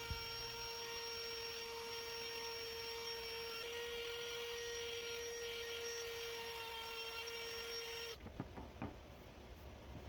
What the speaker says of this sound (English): I'm going to add a little bow tie. So I'm routing that out right now